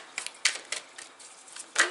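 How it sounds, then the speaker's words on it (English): A deck of cards is shuffled up close, giving a light run of crisp riffling flicks and taps with a sharper snap near the end. "Let me just shuffle these up and finish this."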